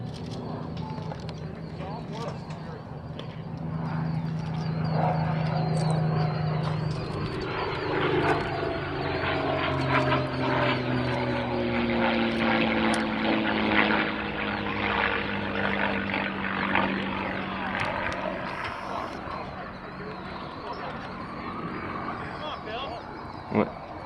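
Propeller-driven P-51 Mustang fighter flying past outdoors, a sustained engine drone with a slowly falling pitch as it passes, steady and fairly loud throughout, with people talking nearby.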